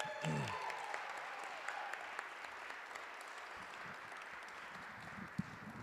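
Steady applause from an audience at a songwriter showcase at Sacred Heart Music Center in Duluth fills the whole stretch, dense clapping with no voices over it.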